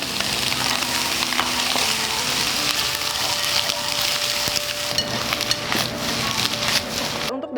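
Onion, carrot and bell pepper sizzle and crackle in a hot pan for garlic fried rice. The frying stays steady and close, with a few stirring scrapes and clinks, and soft sounds near the end.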